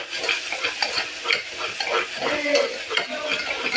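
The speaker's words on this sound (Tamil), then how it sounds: "ஸோ அடுத்து இஞ்சி பூண்டு பேஸ்ட்டு நல்லா மிக்ஸ் பண்ணி விடுங்க" Ginger garlic paste is stirred into onions and spices frying in a pan, giving a close scraping and rhythmic stirring over a steady sizzle, with a light metallic clink of the spoon now and then.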